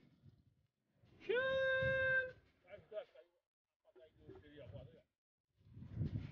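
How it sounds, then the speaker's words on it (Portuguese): A kitten about to be fed gives a single clear, drawn-out meow, followed by softer fainter mews and low rustling, with someone talking nearby. "Olha, galera, o gatinho aí vai vir comer aqui"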